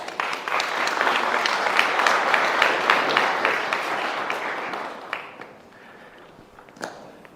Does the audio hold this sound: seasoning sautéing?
no